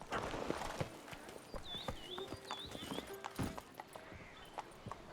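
Roach the horse gallops in The Witcher 3, rapid rhythmic hoofbeats clattering at close range with a few whinny-like calls over them, fairly quiet overall.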